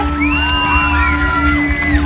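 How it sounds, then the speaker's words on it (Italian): Live concert crowd at a 2017 show on Ischia cheering loudly, with whoops and rising whistled shouts over steady crowd noise throughout. "Vi facciamo ancora un applauso forte"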